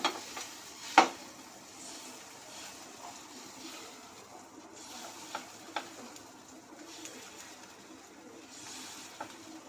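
A ladle of uttapam batter lands on a hot pan and is spread around, giving soft faint scraping and light sizzling with a few small taps, quiet and close.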